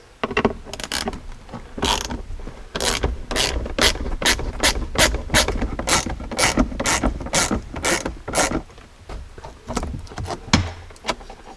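A hand ratchet spins and clicks in rapid repeated bursts while backing out T20 Torx bolts from the factory door speaker of a Jeep Cherokee XJ, loud and close with short pauses between runs.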